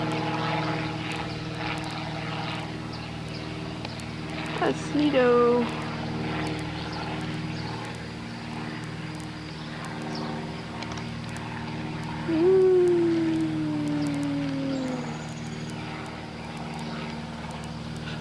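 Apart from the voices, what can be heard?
airplane flying overhead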